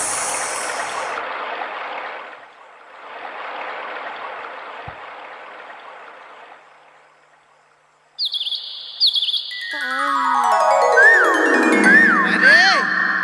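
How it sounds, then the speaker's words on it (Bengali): Birds call at dawn in a loud, close burst of bright chirps and rising whistles, several overlapping, arriving suddenly after a stretch of soft hiss. "ভোরের পাখি ডাকছে শুনতে পাচ্ছিস"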